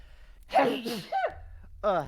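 A single person's sneeze in a quiet room, a sharp breathy burst followed by brief voiced sounds, with a short vocal reaction moments later.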